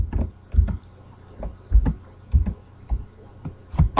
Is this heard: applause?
no